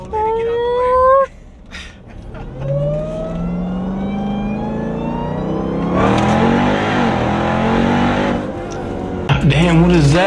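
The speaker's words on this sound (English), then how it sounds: "I love how you hear the supercharger on the downshift." Supercharged Jeep Trackhawk accelerating hard: a rising engine roar with a climbing whine that sweeps upward through the gears, loud and close, with a brief downshift blip; people talk over it at the start and end.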